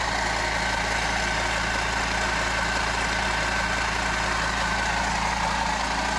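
An air compressor runs off a 700-watt power source, giving a loud, steady low drone with a constant rhythmic pulse and no pause.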